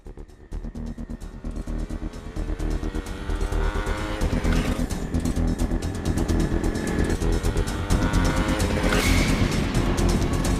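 Loud, continuous vehicle engine roar from a bike ridden at speed, rising in intensity with revving surges and a tire squeal near the end, no talking.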